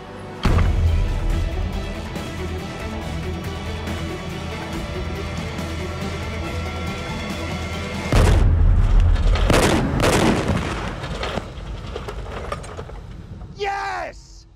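Artillery cannon fire in a TV show set in Morocco: a sustained heavy rumble gives way to loud, close booming blasts with rolling echoes, then shouting voices and a brief whistling tone near the end.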